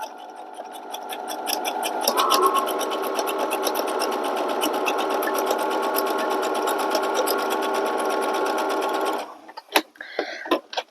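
A sewing machine runs steadily while stitching a rice bag, a loud, continuous rapid mechanical whir for about nine seconds before stopping, followed by a few short clicks and handling sounds.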